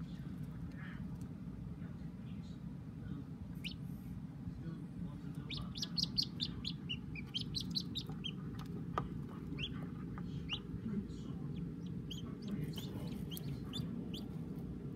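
Newly hatched wood duck ducklings peeping in a brood, with many high, thin chirps scattered through the clip and bunching in the middle, over a constant low rumble.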